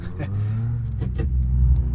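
A Peugeot 205 XS with a sidedraft carburetor revs in BeamNG Drive, a steady droning engine hum that swells slightly as the throttle opens, heard under a man's speech.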